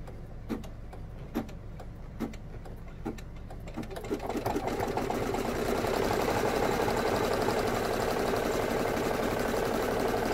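An embroidery machine stitches through a hooped project: a few sparse needle ticks at first, then a steady, dense whirring and rapid stitching that grows louder and continues without a break.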